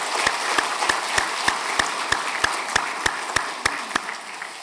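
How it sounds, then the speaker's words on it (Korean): A church congregation claps to welcome a pastor, with sharp claps falling in an even, regular rhythm, about three per second, against a quiet background. "큰 박수로 환영하겠습니다"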